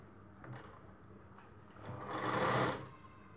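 A sewing machine stitches the edge of a Rajputi dress in one brief, close whirring run after some faint handling clicks.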